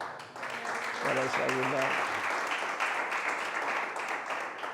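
Congregation clapping in a Spanish-speaking church service, a steady wash of applause throughout, with a brief spoken word partway through.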